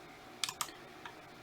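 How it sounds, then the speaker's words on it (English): A few quick key presses on a computer keyboard, a short Control V shortcut typed in CNC design software, three soft clicks close by in a quiet room. "I'm just hitting Control V and pasting that after I type which one it is"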